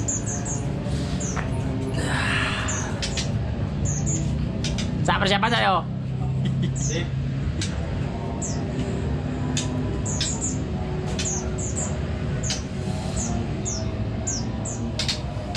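A white-rumped shama (murai batu) at a songbird session sings repeated bright chirps and whistles, with a short rich phrase midway, under steady nearby talk and background noise.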